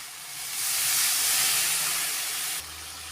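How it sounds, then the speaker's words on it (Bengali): Water poured into a pan of frying spices with red chilli powder produces a loud, close, sustained hiss of sizzling and steam that swells, holds and then cuts off abruptly, with no talk. "মশলা ভাজা হয়ে গেছে, এখন জল দিয়ে দিচ্ছি।"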